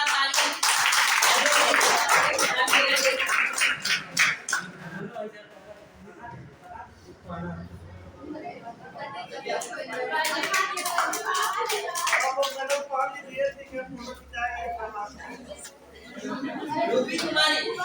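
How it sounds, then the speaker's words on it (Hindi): An audience at a school award ceremony for Bihar board class 10 results gives loud, rapid clapping, which gives way to chatter and talk and then a second burst of applause. "जोरदार तालियां"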